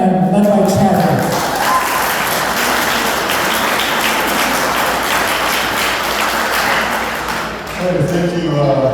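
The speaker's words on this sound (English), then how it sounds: "one more round of applause for the KinsMen and led by Chad" An audience at the Rally Round the Mill heritage event gives a round of applause for the Kinsmen volunteers, a broad, steady clapping crowd that swells and then tapers, with a voice speaking over the start and end.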